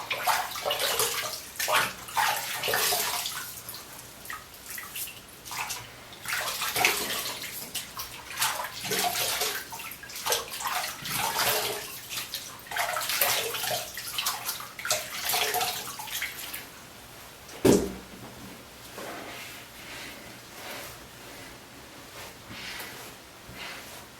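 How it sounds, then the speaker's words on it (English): Tap water runs steadily while lather is rinsed off a face after a beard trim, with splashing bursts and a sharp knock near the end, close and fairly loud with no talking. "I'm going to go ahead and rinse off."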